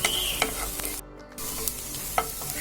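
Sliced onions sauté in a pan for mutton sukka, a close, continuous sizzle with a few stirring scrapes and a brief drop in sound partway through.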